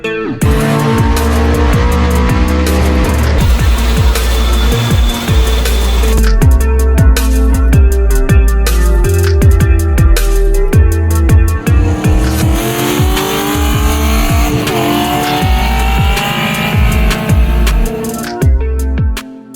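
A 1000 hp 6.2-litre LS3 V8 in a Holden E2 Maloo ute revs hard toward 6600 rpm, a loud continuous close engine roar with rising and falling pitch sweeps throughout.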